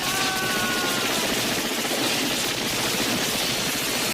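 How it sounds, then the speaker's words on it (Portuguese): Minigun fire from the 1987 film Predator roars in a dense, continuous rattle through the jungle, loud and sustained without pause. "vê um cara atirando com a minigun"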